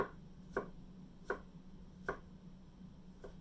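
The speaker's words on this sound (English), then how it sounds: "I'm going to chop it up. I'm going to slice it real thin." A knife chops a garlic clove on a board in four evenly spaced, crisp taps, each a sharp isolated knock with quiet pauses between, heard alone.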